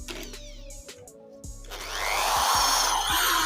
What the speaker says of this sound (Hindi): अब यही बिट मैंने इम्पैक्ट ड्रिल मशीन में लगाया और अब करते हैं ट्राई